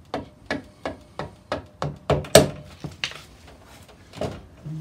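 Steady hammer taps drive the axle out of an AJS Modena motorcycle front wheel, about ten sharp metallic knocks at an even rhythm, close and clear, ending with a couple of heavier blows and a scrape.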